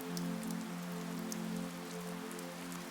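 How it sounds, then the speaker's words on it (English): Steady rain falls on a stony path leading to a front door, a continuous soft hiss of drops spread evenly across the scene with a low droning hum beneath and no voices. "a steady sheet of rain falls on the stony path to my front door"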